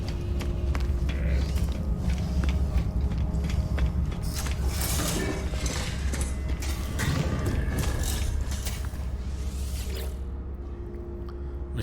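Ancient alien machine mechanism running in No Man's Sky, a steady low mechanical hum and whir layered with clicking, ratcheting ticks, continuous for most of the stretch and easing off near the end.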